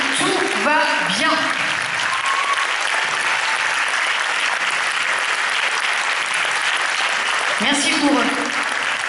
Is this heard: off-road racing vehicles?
no